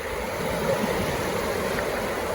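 Sea waves wash steadily onto Saint-Malo beach in France, a continuous broad rushing surf that sounds close and fairly loud, heard alone without voices.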